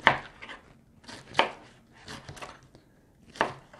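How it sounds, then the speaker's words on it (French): Kitchen knife slicing produce into pieces sized for a juice extractor, a series of crisp, close cuts against a board at an irregular rhythm, with no voices. "Je coupe ça en tranches."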